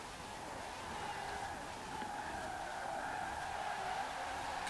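A 1966 Porsche 906 Carrera 6 in Forza Horizon 4 slides on a motorway roundabout, giving a continuous faint tire skid and squeal that runs the whole stretch, with no talking.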